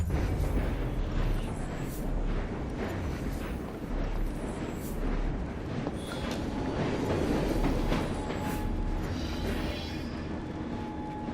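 Train ride in Assassin's Creed Syndicate, set in Victorian London: a steady rumble of rolling rail cars with rhythmic clatter and occasional clanks, continuous and fairly close, with no talk.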